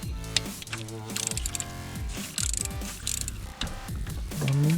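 Ratchet working loose the alternator bolts on a 2007 Honda Civic Si, heard as close, loud bursts of rapid clicking in several separate runs with brief gaps between them and no one talking.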